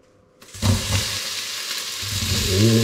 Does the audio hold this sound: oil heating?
yes